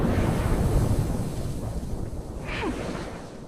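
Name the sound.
giant cryogenic geysers on Enceladus shooting water into space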